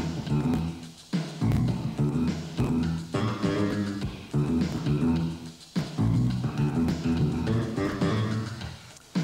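Bass guitar lines filling the gaps between a regular kick drum beat, groove-based playing alongside drums, close and loud, no talking.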